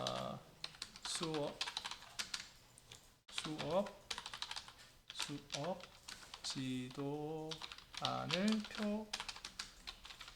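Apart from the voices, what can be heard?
typing on a computer keyboard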